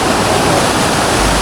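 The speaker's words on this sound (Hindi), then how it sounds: "बाकी यात्री झरने को पत्थर पे पैर करके क्रॉस कर रहे हैं और पानी से बच रहे हैं।" Cold mountain waterfall stream rushing over rocks on a Himalayan trek to a high-altitude lake, a steady loud broadband roar of flowing water with no voices.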